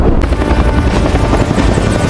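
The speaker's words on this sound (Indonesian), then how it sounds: "mereka pun berangkat dengan puluhan helikopter yang berisi kru dan bahan peledak seismik" Dozens of helicopters carrying crews and seismic explosives fly in a film scene, their rotors producing a loud, steady, dense thumping roar that fills the whole stretch without pause.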